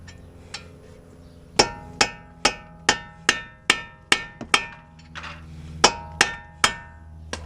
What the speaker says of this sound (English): Punch the axle nut.